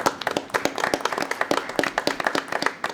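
Applause breaks out for a deputy chief at a police commissioners meeting: a steady spread of many hands clapping in a room, irregular sharp claps layered together at moderate loudness, with no talk over it.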